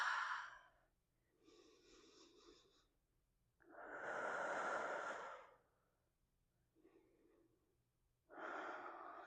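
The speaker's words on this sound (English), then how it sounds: "Make sure you're breathing." Slow, deep breaths during a yoga and Pilates stretch, several long inhales and exhales with pauses between them, close and fairly soft, no talking.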